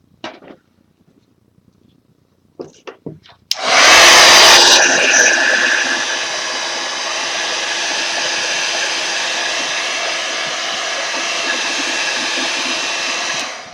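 A hair dryer-style heat tool drying paper coated with Distress Oxide inks in a craft project. After a few faint handling noises it switches on with a burst, then holds a loud, steady, close whooshing hum to the end.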